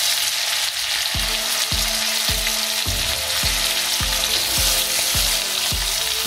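Meat browns in a pan for a traditional Nepalese postnatal dish, with a constant close sizzle and rhythmic stirring strokes about every half second.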